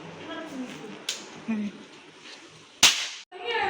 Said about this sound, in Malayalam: പടക്കം തീപ്പെട്ടി വെച്ച് പൊട്ടിക്കുകയാണ്